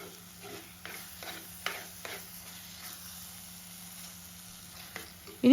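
Pepper egg roast in a pan, loosened with half a cup of water, is stirred with soft repeated scrapes over a light sizzle, ending in a sudden louder knock.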